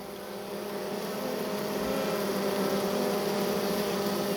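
A honeybee swarm fans and buzzes at the entrance of a small nucleus hive, a dense, steady hum that holds at moderate loudness without pause.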